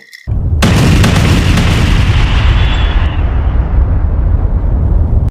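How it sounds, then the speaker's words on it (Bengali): A powerful explosion bursts in abruptly and loud, then rumbles and roars on for several seconds before cutting off, with no voices. "হঠাৎ এক তীব্র বিস্ফোরণে কেঁপে ওঠে"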